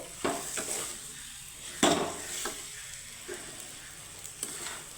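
Raw mango cooking with sugar in a pan on low flame, with no water added, for a sweet, sour and spicy mango pickle: a soft steady sizzle broken by a few sharp spoon-against-pan scrapes and clinks.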